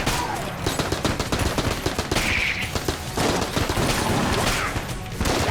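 An AK rifle fires in Enter the Gungeon, a dense, continuous barrage of rapid shots mixed with game impacts and effects, loud throughout.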